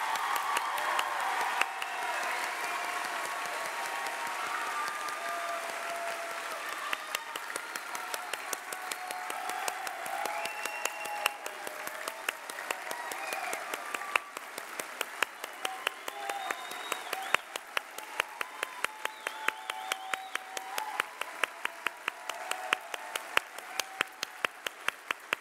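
An audience at a Harlingen School of Health Professions graduation ceremony applauds in a long, dense roar that gradually thins into scattered individual claps.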